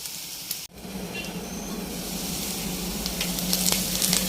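Ginger sautés in a hot pan for a Kerala-style beef roast, giving a loud, continuous close sizzle after a brief quiet break. The sizzle swells steadily with faint stirring scrapes and no voices.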